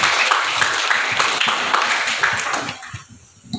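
Audience clapping at an official car thanksgiving ceremony, a steady dense patter of applause that carries on for about three seconds, then quickly thins out and fades.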